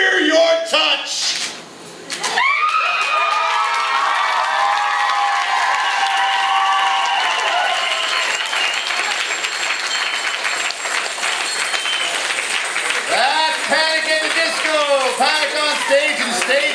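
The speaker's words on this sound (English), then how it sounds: "Big round of applause for that." A poetry slam audience in Vancouver breaks into loud, sustained applause with cheering, steady clapping filling the room after a performance, with voices and whoops rising over it.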